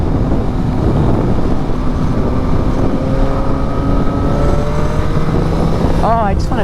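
Yamaha MT-09 SP motorcycle with its CP3 three-cylinder engine, throttle being twisted, gives a steady loud engine drone with rising rev sweeps near the end, close by and continuous.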